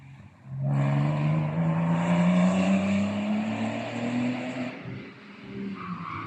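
A Porsche Boxster sports car races past on a track at Cadwell Park, its loud engine note rising and sweeping through the pass with a strong roar, then fading after about five seconds.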